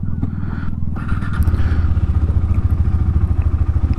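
A motorcycle engine idles and then runs close by after leaving a temple parking area, giving a steady rhythmic low chug with some light clatter and no speech.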